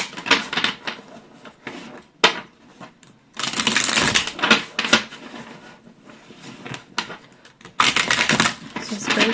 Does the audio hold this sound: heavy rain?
no